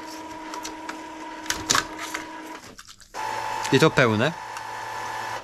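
An Epson EcoTank L3151 inkjet printer runs through a print pass, giving a steady mechanical hum and carriage whirr broken by sharper clicks and a rising motor sweep, close by, with brief talk over part of it.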